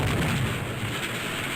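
A deep, muffled explosion rumbles in a naval surface-warfare submarine game, a broad, steady low roar filling the short moment without any voices.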